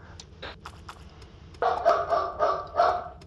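Dog barking in the Starbound video game: a handful of short yips at first, then four louder, evenly spaced barks close by, heard alone without talk.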